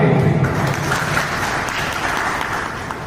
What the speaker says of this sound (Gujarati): ફરી એકવાર જોરદાર તાળી